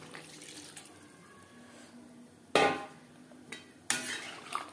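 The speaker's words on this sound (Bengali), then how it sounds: "দিয়ে দেব জল।" Water splashes into a pan of snakehead fish curry with potato and cauliflower in two short pours, each a sudden splashy burst over quiet kitchen background, with no voices.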